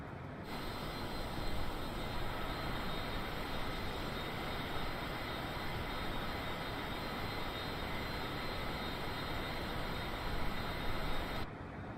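Twin jet engines of a Cessna Citation CJ4 in flight near Mallorca, a steady dense broadband roar with a faint high whine, constant and close as if heard from the cockpit, with no talk.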